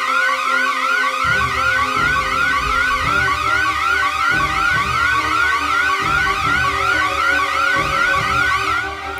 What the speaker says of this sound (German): Mist, der Alarm.